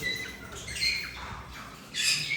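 A breeding male golden-mantled rosella gives a few harsh, raspy squawks close by, with a louder burst near the end over faint background noise.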